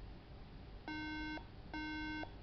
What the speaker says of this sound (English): it just makes this stupid beeping noise